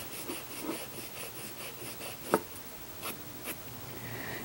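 Pencil on paper with an eraser working over the marks, a soft scratchy rubbing in short irregular strokes, fairly close and quiet, with one sharper scrape and no talking.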